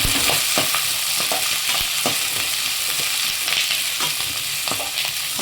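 Onions sizzle steadily in a hot pan as they fry to golden for a fenugreek curry (vendhaya kuzhambu), with periodic scraping and clinking of a spoon stirring them.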